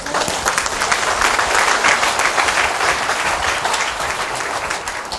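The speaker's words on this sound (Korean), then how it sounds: "오메 박수 한번 치시오." An audience at a church seminar bursts into loud, steady applause, with dense clapping from many hands sustained throughout, close and without talk.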